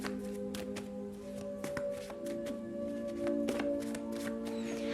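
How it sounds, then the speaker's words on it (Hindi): A handmade tarot deck is shuffled close by, its quick riffling card taps coming in uneven bursts over a low steady hum. "तो शफल कर लेते हैं कर्क राशि के लोगों के लिए।"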